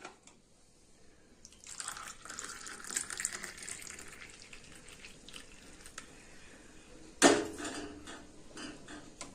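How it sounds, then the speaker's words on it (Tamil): Hibiscus tea poured from a pot into a tumbler at a home kitchen counter, a steady close liquid stream running for several seconds and ending with a brief sharp clink, no voices. "இப்போ நம்ம வந்து ஒரு டம்ளரில் ஊற்றிக்கலாம்"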